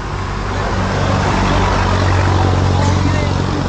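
An impounded keyless motorcycle, started with a key, idles in a steady loud engine drone that holds evenly throughout, with voices talking over it.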